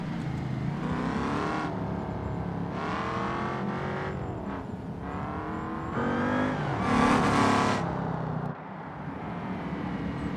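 Race car engine on a tarmac hill climb in BeamNG.drive, revving hard through repeated gear changes and braking for corners, loud and continuous with rising and falling pitch, no talk.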